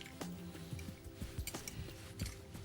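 Fish tartare ingredients being mixed in a bowl with lime juice, giving light clinks and soft scrapes of a utensil against the bowl at close range.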